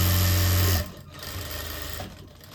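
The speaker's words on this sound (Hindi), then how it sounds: "बिल्कुल बुकरम के साथ साथ एक सिलाई लगाएंगे" A sewing machine stitches a sleeveless blouse along buckram, running fast and loud for under a second, then stopping and leaving a quieter whirring hum.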